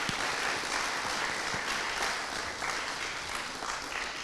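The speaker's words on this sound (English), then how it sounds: "So let's give them a round of applause as well." A crowd at a county youth commission graduation ceremony applauds in an even, sustained wash of clapping, fairly loud and unbroken, with no speech on top.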